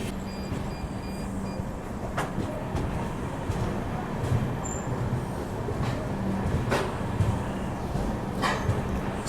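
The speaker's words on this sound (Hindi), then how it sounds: "सदर्न रेलवे के सेलम डिवीजन के ईरोड जंक्शन पर अपनी जयंती जनता एक्सप्रेस यहाँ पे पहुँच रही है" Jayanti Janata Express pulling into Erode Junction at night, a steady low rumble of the train with faint higher clanks and a brief station beep, continuous and moderately loud with no talk.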